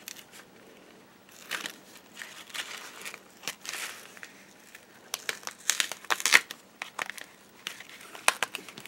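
A handmade Christmas card of stamped paper is pulled apart in irregular bursts of close crinkling, tearing and crackling, quiet between the louder rustles.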